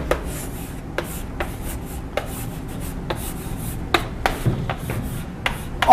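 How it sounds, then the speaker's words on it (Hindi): A teacher writes a chapter title on a classroom board, producing a run of short scratchy strokes and taps at an irregular rhythm, close and fairly soft, over low room noise. "तो चैप्टर का नाम लिखते हैं"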